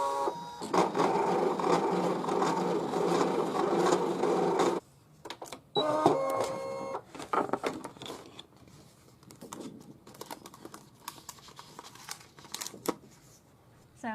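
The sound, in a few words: Brother DC200 DesignNCut machine cutting yellow cardstock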